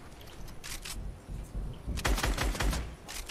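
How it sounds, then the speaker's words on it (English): Rapid bursts of SMG fire in a Fortnite battle royale match, a short crackling spray early on followed by a louder, denser string of shots near the end, close and sharp. "He just sprayed his SMG the whole time"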